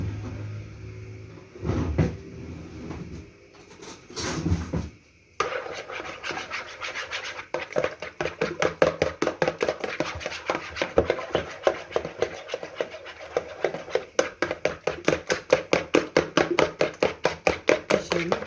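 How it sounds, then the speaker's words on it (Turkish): Revani cake batter is whisked in a bowl. After a few scattered knocks, it becomes a fast, even run of scraping strokes that carries on to the end, close and moderately loud. "Güzelce çırpla, çırpacağım arkadaşlar bunu"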